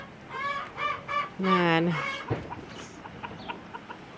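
Chickens in a greenhouse coop cluck and squawk up close in a run of loud calls, then quieter scattered clucks, with a person speaking briefly.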